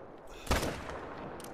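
A single sharp rifle shot rings out while hunting reindeer in a video game, a loud close crack with a short decaying tail over quiet background.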